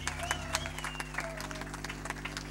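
An audience at a live album launch concert applauds a band in a spread of scattered, sharp claps, while sustained musical tones and a low hum carry on beneath the clapping.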